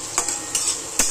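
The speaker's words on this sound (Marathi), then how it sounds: "चांगला परतून द्यायचा तो कांदा." Onion sautéing in a pan with red chili powder and turmeric, three sharp stirring scrapes against the pan over a soft, steady sizzle.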